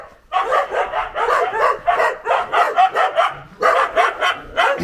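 Loud, close barking from a dog kept in a Bulgarian village garden: a rapid, steady string of sharp barks with one brief pause, then more barking, with no talking.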